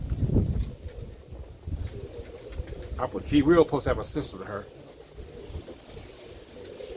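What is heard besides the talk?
Mason roller pigeon hen cooing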